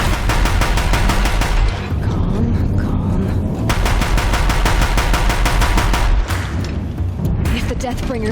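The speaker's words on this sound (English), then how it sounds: "If the Deathbringers keep firing, this bridge will go." Deathbringer war machines in Horizon Zero Dawn fire their guns relentlessly near a bridge, a loud, dense stream of rapid booming shots running without pause.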